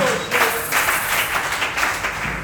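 A congregation applauds during a Tuesday healing worship service, clapping in fairly regular rhythmic bursts, moderately loud and close, with no talk over it.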